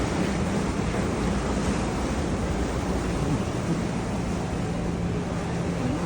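Steady rushing of open-sea waves heard from a ship deck, mixed with wind buffeting, a continuous broad roar with no voices.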